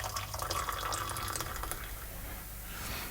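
Hot water is poured into a cup, a soft, continuous trickling and filling sound, fairly quiet and close, lasting a few seconds without talk.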